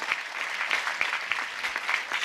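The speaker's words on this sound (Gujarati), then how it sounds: "ઓહો, જોરદાર તાળી પાડવી જોઈએ." Clapping from a crowd at a Christmas celebration sermon in Bhomti, a steady dense patter of many hands, fairly close and continuous, with no talking over it.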